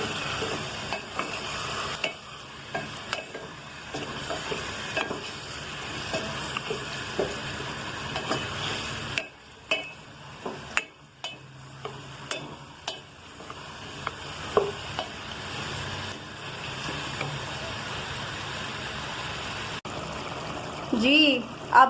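Chicken pulao stirred in a pot over a medium flame: repeated scraping and clattering of a spoon through the rice over a low sizzle, with someone talking at times.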